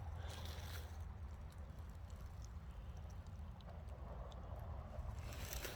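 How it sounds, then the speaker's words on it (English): A car drives down a nearby road during an outdoor walk past a garden area in Hartford, a steady low rumble that swells slightly at the start and end, with no voices. "Sounds like somebody's driving down."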